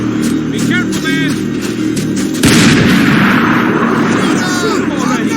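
Max Payne 3 gunfight: a loud boom of gunfire erupts midway through a noisy battle scene, with a rumbling tail and other combat sounds around it, while voices talk earlier.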